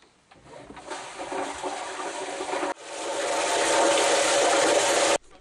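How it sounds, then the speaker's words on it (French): Toilet flushing nearby, a loud rushing gush of water that stops briefly, resumes even stronger for a couple of seconds, then cuts off abruptly, with no talking. "je vais tirer l'eau"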